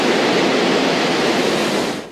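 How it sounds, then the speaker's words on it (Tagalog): Raging rivers swollen by rainy typhoon weather rush in a steady, loud, broadband roar that holds unbroken and fades slightly at the very end, with no voices. "maulan at rumaragasa ang mga ilog"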